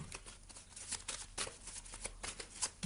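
A Mystic Woods oracle card deck being shuffled by hand, a quick run of crisp, papery riffles and flicks in uneven bursts, close and fairly quiet with no talk.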